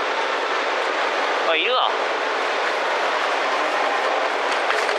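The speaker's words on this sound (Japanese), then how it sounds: "列車長崎駅止まりました" A Nishi-Kyushu Shinkansen train arrives at Nagasaki station with a constant rolling rumble and hum inside the car. There is a short rising-and-falling whine, and a voice briefly speaks over it.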